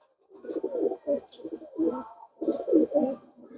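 A pigeon coos close up in a series of soft, throaty bursts with short pauses between them, clear against a quiet background.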